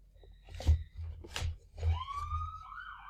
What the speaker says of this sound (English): Of course, I'm recording, so they're gonna have a ambulance go by.